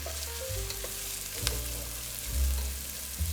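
Onions, celery, garlic, chilies and mushrooms sauté in hot oil in a pan for vegan chili beans, a continuous loud sizzle with occasional stirring scrapes and no talking.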